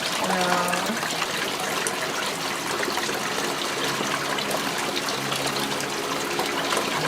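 Water trickles and bubbles steadily in a natural outdoor hot spring in Idaho, a close, continuous wash of flowing water with faint tonal hums from people nearby.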